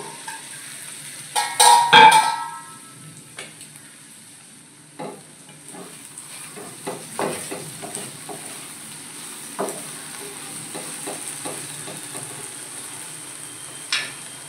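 Stuffed okra (bharli bhendi) for a Maharashtrian fasting dish is stirred as it fries in a kadhai: a steady close sizzle with scraping stir strokes and a loud utensil clatter near the start, no voices.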